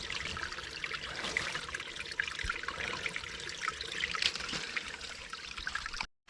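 Water trickles and gurgles at a river's source in hilly jungle, a continuous close babbling flow that cuts off abruptly at the end.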